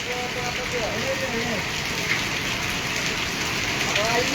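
Heavy rain during a thunderstorm in Patepur, a steady dense hiss of rain with faint passing vehicle sounds and someone talking throughout.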